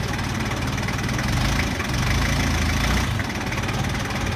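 A forklift's engine runs at a steady idle during a pre-trip inspection, giving a loud, continuous close-up rumble with a slight knocking vibration and no talking.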